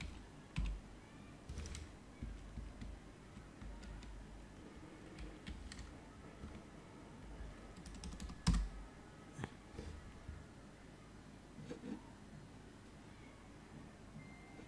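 Typing on a computer keyboard, a steady run of soft clicking keystrokes with a few louder taps, fairly quiet and close, with no talk over it.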